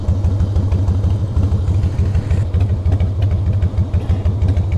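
A motorcycle engine idles high and slightly choked, a loud, close, throbbing putter with a fast, even pulse and some mechanical clatter.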